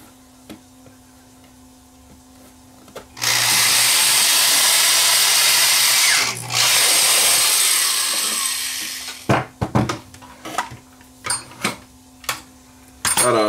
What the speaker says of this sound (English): So we'll just drill a hole in the back here